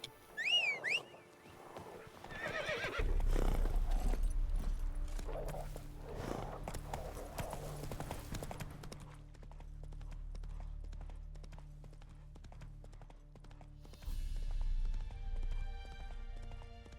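Roach, the horse in The Witcher 3 video game, whinnies briefly at the start, then clip-clops along at a steady rhythm over a low game hum. The hoofbeats are close and continue throughout.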